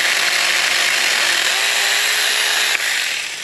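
A Saker mini electric chainsaw cuts through a branch, a loud continuous high motor whine held steady throughout, with a slight shift near the end as the cut finishes and the sound begins to fade.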